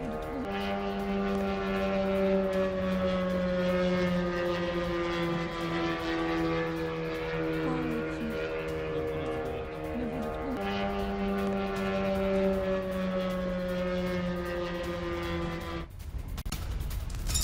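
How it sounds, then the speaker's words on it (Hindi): Drones flying over Kyiv during a Russian attack drone on in a steady, sustained engine whine with strong tonal harmonics, holding level for most of the stretch before cutting off abruptly near the end. "कीव के ऊपर उड़ते कई ड्रोन्स दिखे हैं"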